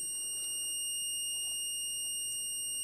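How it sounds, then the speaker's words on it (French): A fire alarm repeater panel buzzer drones continuously at a steady pitch during testing of an extinguishing-system panel, with faint background room noise and no talk. "mon buzzer sur le tableau répétiteur sécurisé continue à fonctionner"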